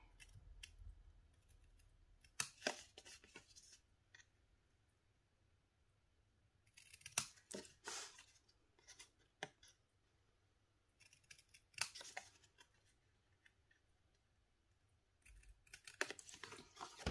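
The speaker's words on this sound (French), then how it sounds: "je prends mes ciseaux et là, j'enlève ce petit carré." Several separate bursts of crisp scissor snips cutting paper, near and clear, with quiet pauses between them.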